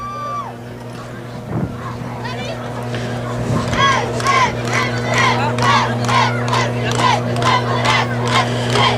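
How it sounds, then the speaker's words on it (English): A huge crowd at the 60th annual City Classic varsity football game at St. Peter's Field roars and cheers steadily throughout, with a broadcaster's voice talking over the din. "We're at St. Peter's Field, a huge crowd for the City Classic, the 60th Annual Classic."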